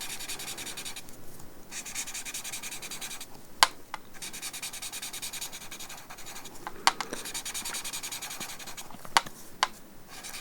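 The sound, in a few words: tortillon blending graphite on textured paper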